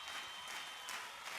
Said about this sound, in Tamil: கைதட்டல்களும் அரங்கமே குலுங்கும் அளவுக்கு இருந்தது.